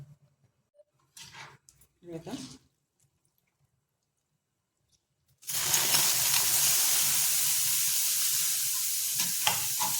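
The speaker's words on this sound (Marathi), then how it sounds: "धुवून नंतर पिळून तव्यावर टाकायचे" Washed and squeezed bitter gourd pieces hit a hot griddle pan, bursting into a loud, steady broadband sizzle that holds for the rest of the stretch after a few seconds of quiet kitchen sounds and brief talk.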